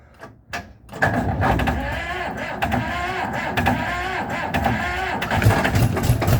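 An Ursus tractor's diesel engine cranks and catches on a frosty day, chugging in uneven bursts before settling into a rough, close running rumble.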